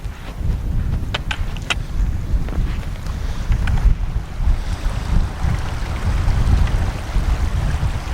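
Steady wind gusting across an exposed hillside in a steep valley, a dense low roar that swells and eases throughout, buffeting the microphone, with a few faint clicks and no talking.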